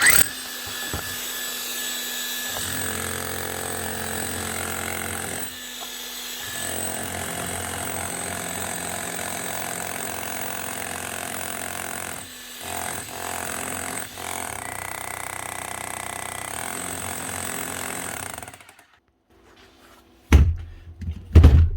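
A repaired demolition hammer with its chisel refitted runs in long, loud continuous bursts broken by brief stops, then cuts off into near silence before a few sharp knocks.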